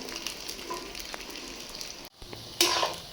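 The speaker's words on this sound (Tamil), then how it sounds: "இதை கொஞ்சம் நல்லா வதக்கி எடுத்துக்கணும்." Garlic sautés in a pan for a garlic thokku, giving a steady close sizzle and crackle of frying, a brief drop out, then a sharper, louder hiss of sizzling near the end.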